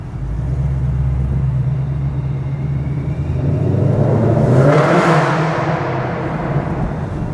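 Supercharged 800-plus horsepower 2021 Mustang GT in sport mode inside a parking garage, its engine rumbling low then revving up to a loud, swelling roar around midway before settling back, echoing off the concrete.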